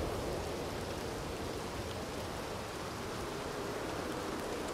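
Steady rain pouring in the Red Dead Redemption 2 game world, a dense, even hiss of drops with a low rumbling bed, constant and unbroken with no voices.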